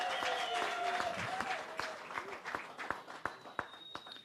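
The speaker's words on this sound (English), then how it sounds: "Let's give a warm round of applause to the leadership" Applause from a panel-session audience at a youth health conference, a patchy spread of claps with some sharper individual hand strikes standing out toward the end, moderately close, no talking over it.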